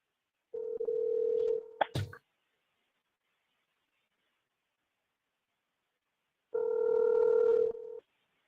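A phone places a call, sounding a steady electronic tone with a quick burst of keypad beeps. After a silent pause a second long ringback tone follows, clear and fairly quiet.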